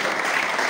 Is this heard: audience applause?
yes